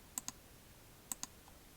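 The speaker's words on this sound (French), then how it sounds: "j'appuie sur la touche CTRL" Ctrl key pressed on a computer keyboard while selecting PCB track segments in KiCad 8: two pairs of quiet, crisp plastic key clicks, each pair closely spaced, with a faint extra tick near the end.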